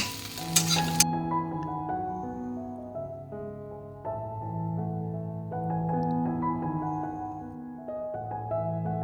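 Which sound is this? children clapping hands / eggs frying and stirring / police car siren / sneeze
eggs frying and stirring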